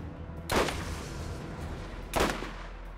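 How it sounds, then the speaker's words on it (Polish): Two sharp broadband gunshot bursts from gunfire in the video game Borderlands, one at about half a second and another near two seconds, each followed by a brief decaying tail over a steady background hum. "Ostatni strzał."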